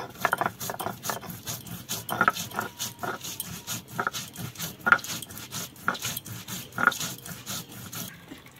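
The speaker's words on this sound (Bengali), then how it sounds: "সমস্ত মশলা বন্ধুরা আমি একসঙ্গে বেটে নিচ্ছি।" Green chillies, ginger, cumin and other spices are ground together on a grinding stone, a steady rhythmic scraping and grinding with repeated strokes, close and fairly loud, with no talk.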